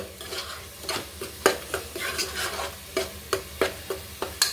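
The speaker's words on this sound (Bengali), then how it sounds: "এভাবে কিন্তু আমি অনেকক্ষণ ধরে ভালো করে নেড়ে নেড়ে কষিয়ে নিব।" Spice paste with coriander leaves is sautéed in a pan, a spatula scraping and stirring in regular close strokes over a constant sizzle, no talking.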